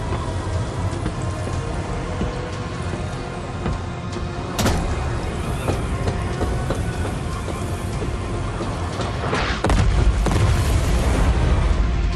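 Artillery explosions in MechWarrior 5: Clans, booming impacts at about five and ten seconds over a constant rain-like roar of falling debris and rumble, with no one speaking.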